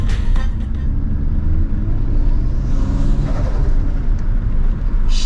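Turbocharged 1JZ engine breathing through an open K&N filter, a loud steady rumble with airy suction and intake whoosh rising and falling across the whole stretch.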